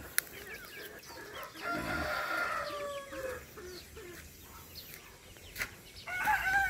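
Backyard chickens, silkies among them, stir in a coop with soft clucks and a few brief higher calls over a quiet, low outdoor hum, fairly faint and close.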